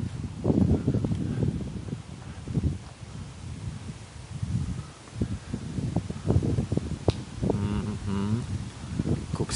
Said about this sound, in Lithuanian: Koks vėjas kyla